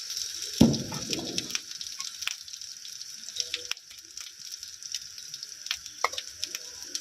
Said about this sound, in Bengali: আদা এবং রসুন বাটা দুটো মিলিয়ে 1 চামচ দিচ্ছি, দিয়ে আবারও কিছুক্ষণ ভেজে নেব